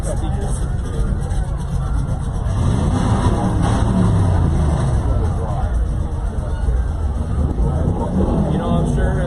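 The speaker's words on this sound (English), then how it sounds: "I'm sure the listeners out there can definitely hear these cars revving their engine from the speakers." Cars rev their engines at a Halloween parade in Centralia, loud rumbling motors rising and falling continuously over a busy crowd murmur and nearby talking.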